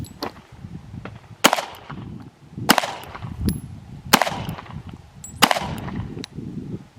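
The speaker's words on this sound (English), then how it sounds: "Right now, I'm just shooting, getting warmed up." Pistol shots from a Glock 19 Gen5 MOS or FN 509 at a shooting range, five sharp, loud reports spaced roughly a second and a half apart, with low background rumble between them.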